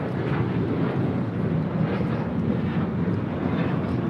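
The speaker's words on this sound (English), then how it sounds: "there's a 777 freighter about to touch down at 25 left" A Boeing 777 freighter, China Southern Cargo inbound from Anchorage, touching down on runway 25 left at LAX, its engines a steady, fairly loud broadband roar that holds evenly throughout with no voices over it.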